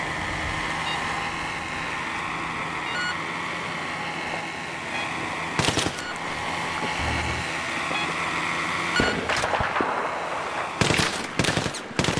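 Sharp gunshot bursts from a modern military shooter in Battlefield 3 Reality Mod on the Sharqi Peninsula map, cracking out in a few separate clusters over a steady hum of engine and ambient battlefield noise.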